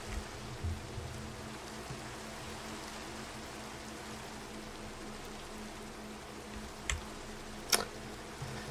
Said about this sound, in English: Come on, rain, go away.